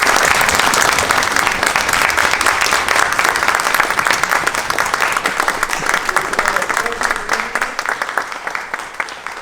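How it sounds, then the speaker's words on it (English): A gala audience in Lincoln County gives a full round of applause at the close of the evening. The clapping is loud, dense and sustained for nearly ten seconds, with crowd noise mixed in. "Let's give them a lovely round of applause."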